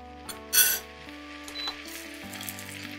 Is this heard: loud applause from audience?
no